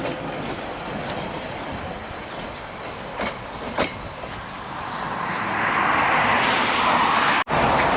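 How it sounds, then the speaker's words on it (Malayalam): A steady low rumble of a train moving off in New Zealand, swelling into a broad roar, with a couple of sharp clacks and a sudden brief cut near the end. "അങ്ങനെ ട്രെയിൻ വാഹിക്ക് പോയി കഴിഞ്ഞു"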